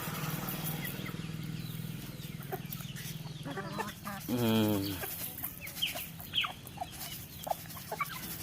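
Several soft clucks from a large black native chicken close by, with a louder burst of clucking in the middle over a low steady background hum.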